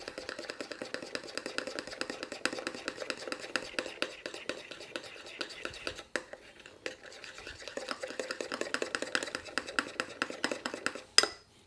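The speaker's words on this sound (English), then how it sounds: "Mix again." Cream being mixed in a bowl for a brandy cherry cake, a steady run of soft scraping and clinking strokes that continues close up with a brief pause midway and a sharp knock near the end.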